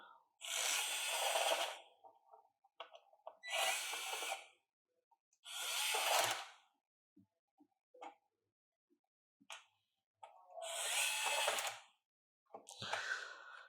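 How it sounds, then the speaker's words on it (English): Worx 242 electric screwdriver, new out of the box, whirring in four or five short bursts of a few seconds each, close and fairly loud, with quiet gaps between runs. "I think the motor is good on this screwdriver, this electric screwdriver."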